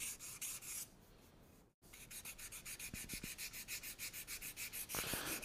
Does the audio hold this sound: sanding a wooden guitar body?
yes